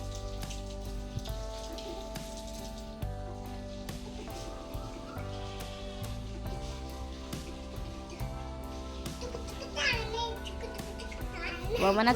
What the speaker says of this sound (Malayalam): മഴയായതുകൊണ്ട് വിറകെല്ലാം നനഞ്ഞ്